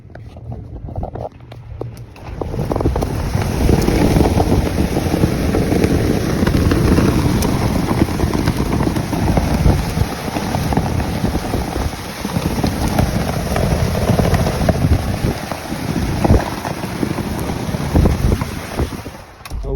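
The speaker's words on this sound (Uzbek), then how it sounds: "yomg'ir shamol bilan yog'yapti" Loud, continuous wind roars and buffets the microphone with a steady wash of rain beneath it, sustained throughout with no voices.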